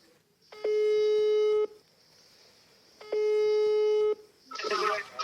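A telephone ringback tone sounds while a call is being placed, two long steady beeps separated by a pause, clear and close, before a voice begins speaking at the end.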